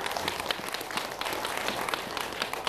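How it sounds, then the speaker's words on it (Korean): Audience clapping during a Saturday Buddhist temple service with a talk on traditional Indian yoga: a fairly faint but continuous patter of many hands from a seated group, heard from a distance. "이때 박수 한번 치셔야 됩니다."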